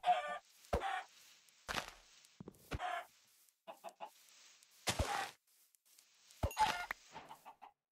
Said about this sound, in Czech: Takže máme ty slepice.